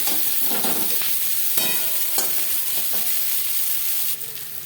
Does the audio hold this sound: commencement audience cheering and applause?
no